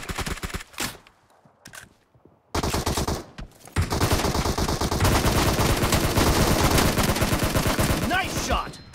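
Rapid automatic gunfire in the battle game PUBG during a team deathmatch: near, loud bursts of shots that break off briefly, then return as a sustained rattling volley for several seconds.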